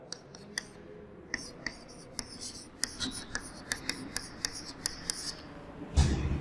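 Chalk or pen taps and scratches out numbers during a class 6 maths lesson on whole numbers, a steady run of crisp close strokes with a low background hum.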